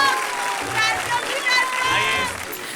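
Audience applause and cheering as a poet is called to the stage at a poetry event, clapping mixed with excited voices and whistles, lively and close.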